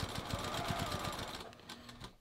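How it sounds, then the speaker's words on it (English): A sewing machine stitching stretched fabric along a serged edge of a hiking belt with a short stitch length, a quick, quiet, evenly pulsing chatter that slows and stops near the end. "So I'm just going to stretch it and sew it."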